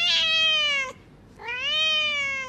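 Domestic cat giving two drawn-out meows, close and clear with a short gap between them and no talk over them.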